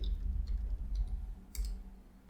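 Soft keyboard typing at a computer command prompt: a few light, irregular key clicks close to the microphone over low background hum, with one slightly louder clatter of keys partway through.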